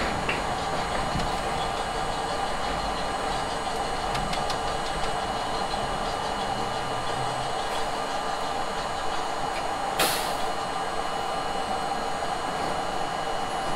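Steady rumbling roar of a New York City J line subway train running, constant broadband noise with rattling, a brief sharp hiss or squeal partway through, no talking.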